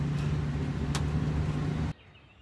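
A rented truck drives along the road with a steady low engine and road rumble close by, one brief sharper noise midway, then the sound cuts abruptly to near quiet.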